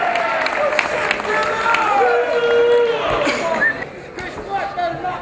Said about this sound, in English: Let's have a nice round of applause for Billy Sutton and Josh Murray